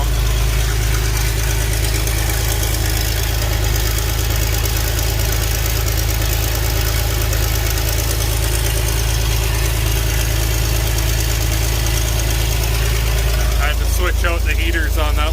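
A 4430 tractor's diesel engine idles just after a cold start in snowy weather, a loud, close, steady low rumble with a knocking edge that continues unbroken, with a voice briefly joining near the end.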